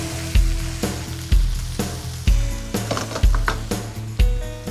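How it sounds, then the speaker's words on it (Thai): Kurobuta pork and papaya stir-fry in a wok in a Thai kitchen, a steady sizzle broken by roughly five loud, regular scraping strokes of the spatula, close and without talk. "ผัดจนหมูสุกแล้วก็มะละกอเรานุ่มครับ"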